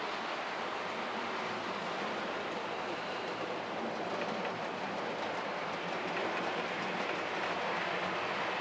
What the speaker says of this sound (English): So I'll leave you now with a few running shots of my trains running here.